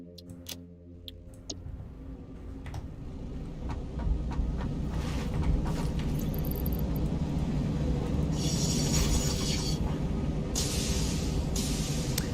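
A train runs steadily in the factory-building game Satisfactory, a continuous rumbling rail drone with faint ticking and brief higher squeals partway through, alone with no talk.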